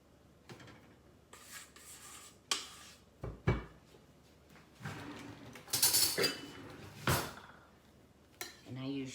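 A regular knife spreads lemon meringue over a Southern lemon meringue pie, giving soft scraping rubs and light clinks against the dish in scattered short strokes, fairly quiet and close.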